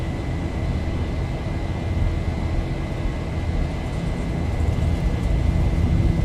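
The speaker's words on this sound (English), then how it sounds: "Throttle's up to 40. Chrono's on. Let's go. Toga. Takeoff power set." Jet engines of a Zibo Boeing 737 in X-Plane 11 roar steadily at takeoff power, a broad continuous rumble with a thin whine that builds slightly toward the end.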